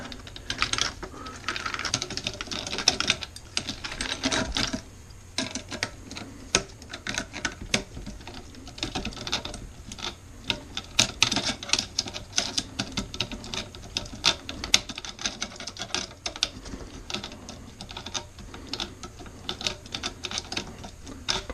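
Plastic lock nut threaded on by hand from the outside, a steady stream of small clicking, ticking plastic contacts in quick irregular bursts, close up and continuous with no talk.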